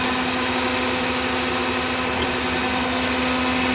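Cincinnati Milacron Heald 361 horizontal spindle rotary surface grinder running on coarse feed, a steady droning machine hum with a constant tonal whine, even and unbroken throughout, no speech.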